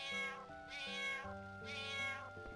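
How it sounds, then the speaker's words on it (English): Cartoonish cat meowing from a petted cat in the Final Fantasy IX video game, two drawn-out tonal meows in a row, clear and alone with no talk. "Wait, can we pet the cat? Pet the kitty."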